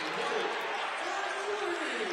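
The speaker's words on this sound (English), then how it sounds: "So that gets the St. Peter's crowd going." Home crowd at a St. Peter's Prep high school basketball game cheering after a made three-pointer, a steady broadband roar of voices filling the gym throughout, loud and sustained without a break.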